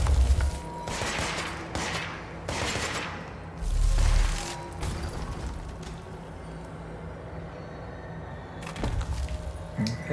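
Gunfire from a player's weapon in the video game Control, set in a warehouse area, comes in several loud bursts and thuds spread across the stretch, with quieter game ambience between the shots.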